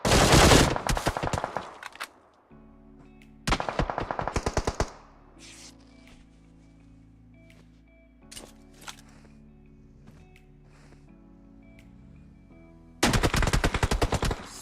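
Gunfire in the PUBG Mobile video game during a tournament match: loud, dense bursts of rapid automatic fire in three separate volleys, with quieter game ambience and occasional single shots in between.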